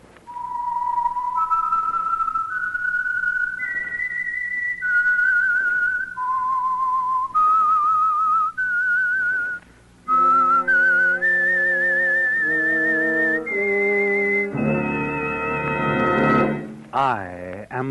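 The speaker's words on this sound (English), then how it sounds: "That whistle is your signal for the Signal Oil Program" A clear, solo whistled theme melody of sustained notes rises and falls, followed by a swelling orchestral chord and a sliding flourish, opening a radio program.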